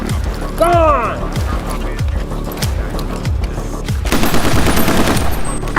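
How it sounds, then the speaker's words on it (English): A series of sharp, rhythmic gunshot-like bangs repeats steadily, with a short shout early on and a rising clatter of noise toward the end. "occasionally resorting to gunfire to spur those who refuse to move"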